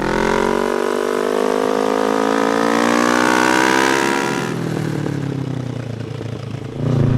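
A Kawasaki ER5 engine drones under load while riding in third gear near 90 km/h, a dense harmonic buzz that climbs steadily in pitch, then drops and eases off as the throttle closes, with wind rush behind it.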